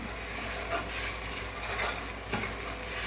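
Potatoes tipped into a hot pan of tomato-based curry for a potato pakora sabzi, sizzling steadily while a spoon stirs and scrapes through them, close and continuous with no talk.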